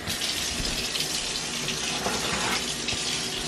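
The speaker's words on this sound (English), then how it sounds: "I actually need to add some more water into that right there" A kitchen tap runs steadily into a cooking pot, adding water while a meal is prepared; a loud, continuous splashing gush fills the whole stretch with no voices.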